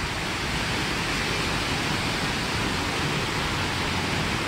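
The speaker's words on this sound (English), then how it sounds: "I love waterfalls, just the sheer power." A waterfall at Minneopa State Park roars as a steady, dense rush of water, loud and continuous from start to finish with no voices present.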